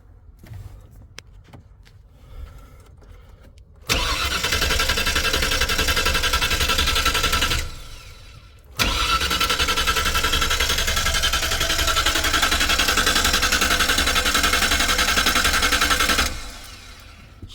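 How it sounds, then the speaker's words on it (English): A 1995 Ford E150 V8 cranking on four cylinders with one coil cable replaced: two long bursts of loud, steady starter churning, separated by a short pause, with no catch or firing, then quiet. "let's see if this thing will fire up on 4 cylinders."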